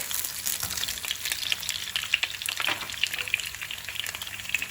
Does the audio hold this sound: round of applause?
no